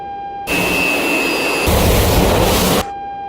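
Roaring jet engine of an Su-27 in a flight simulator, a loud broadband blast that cuts in abruptly, holds steady, grows heavier partway through, then stops suddenly over a faint warning tone.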